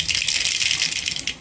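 Mustard seeds drop into hot oil in a pan while cooking Kolhapuri misal, giving a loud, dense crackle and spatter that runs for about a second and a half.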